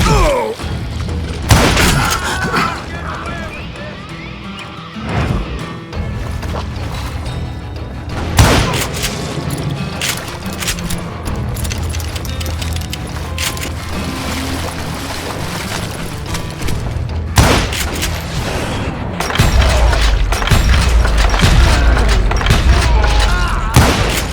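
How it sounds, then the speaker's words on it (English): Volleys of gunfire rain down in the Western shooter game Call of Juarez Gunslinger: loud repeated booming shots and crackling bursts over a rumbling game soundscape, with several sharp blasts standing out across a long stretch. "a fusillade of bullets come raining down from on high"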